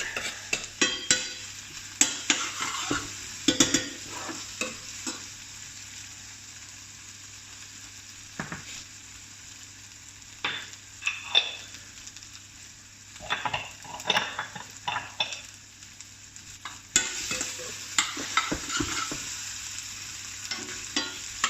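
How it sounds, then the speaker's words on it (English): Vegetables sizzle in a frying pan over medium heat, with a steady frying hiss broken by scraping stirs and clinks of a utensil against the pan, up close and with no talking. "I'll just give that a moment in the pan to catch the heat."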